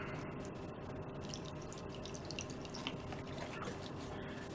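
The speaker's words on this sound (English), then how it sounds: "Fill the water dish up." Water splashes and trickles steadily into a tarantula's water dish, a continuous wet pouring sound with small drips, close by and without talk.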